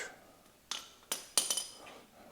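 Metal metric wrenches being picked up and handled in a garage during a motorcycle shift lever install, giving four or five sharp bright clinks in quick succession, close and fairly quiet against a faint background.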